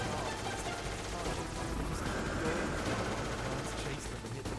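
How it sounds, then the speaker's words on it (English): Enemy gunfire in the video game Metal Gear Solid 3 crackles in rapid bursts, dense and steady throughout, mixed with other game noise. "Still shooting at me."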